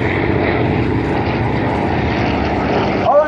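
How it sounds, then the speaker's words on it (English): A warbird aircraft with a Packard-built Rolls-Royce Merlin V12 liquid-cooled engine drones loudly and steadily at an airshow, a continuous propeller roar that fills the scene before a brief shift near the end. "Maytag engine block on a Packard-built Rolls-Royce designed Merlin V12 liquid-cooled engine."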